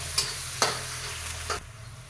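Onion fries in hot oil in a pan, a soft continuous sizzle broken by three sharp scrapes of a spatula stirring it, fairly quiet and close.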